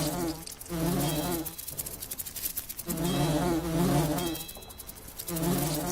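Wasps buzzing in the fantasy RPG Lords of Xulima: repeated swelling insect drones in bursts of about a second, rising and falling against a steady background tone, with no talking.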